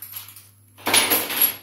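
A metal key is jabbed into plastic packaging to open it, a quiet rustle followed by a sharp, close crackling tear with jangling clinks lasting under a second.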